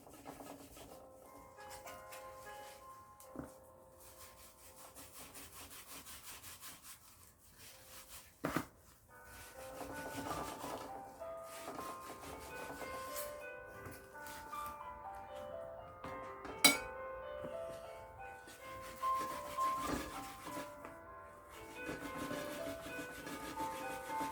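A knife works through frozen smoked salmon with quiet, intermittent scraping and rubbing strokes, broken by a few sharp clicks and knocks against the board, fairly faint and close.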